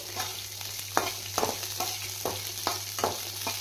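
Five or six torn green chillies frying in oil for a hotel-style peanut chutney, with a soft steady sizzle and regular spatula scrapes about every half second, under a low background hum.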